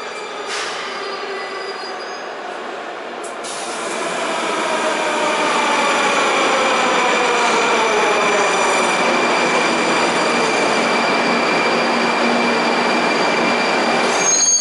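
Moscow-style metro train running through a tunnel, a loud continuous rumble with long sustained wheel squeals and whining tones rising as the train gathers speed.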